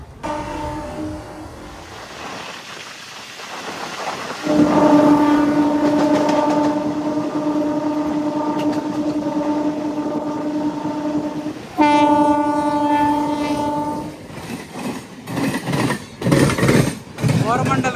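The Coromandel Express rushes past on the line between Samalkot and Visakhapatnam, its horn blaring loudly in one long sustained blast and then a second shorter one, over the roar and rattle of the passing coaches.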